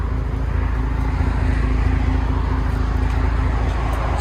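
A 2015 Ford F-150 with a 3.5L EcoBoost V6 and a Flowmaster Outlaw exhaust idles close by, giving a steady, even low drone with a faint high whine above it.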